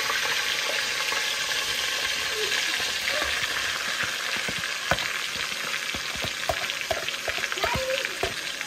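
Onions hitting hot oil with ginger, garlic, bay leaf, cinnamon and cardamom, a steady dense sizzle of frying with occasional stirring clicks and scrapes, close and continuous with no talk.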